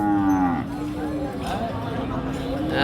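A Friesian-type bull at a Bangladeshi cattle market gives a loud, drawn-out moo close by. Market chatter and talking run underneath through the whole moment.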